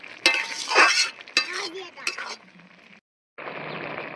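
Old grated coconut being stirred in a cooking pan, with scraping and clinking strokes in bursts, a short pause, then a steady frying hiss.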